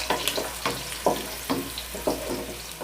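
Onions frying in hot oil in a pan for a lobia masala curry, a steady close sizzle broken by several sharp bursts of crackle as the pieces are stirred, with no voices.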